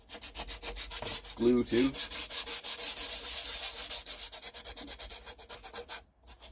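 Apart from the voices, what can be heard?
roughing up wood surface of guitar neck before gluing fretboard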